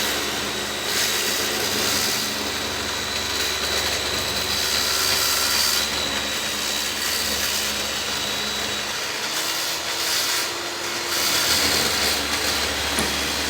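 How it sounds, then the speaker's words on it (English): A power saw fitted with a Diablo aluminum-cutting metal blade slices steadily along a straight line, making a loud, continuous harsh rasping whine with little variation, close up and with no talking. "That metal blade I bought was a Diablo blade used for aluminum"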